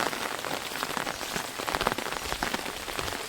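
Steady unseasonal rain patters on a farm field where harvested groundnut heaps lie covered, a dense continuous hiss of drops close by with no voices.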